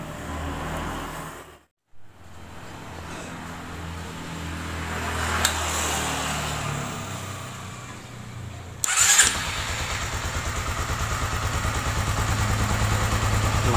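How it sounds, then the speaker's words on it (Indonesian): A motorcycle with a radiator-cooled engine, just back together after a warped cylinder head repair and an oversize rebore, is started with a brief cut and then settles into a steady, even idle close by. "mesin sudah halus, sangat halus"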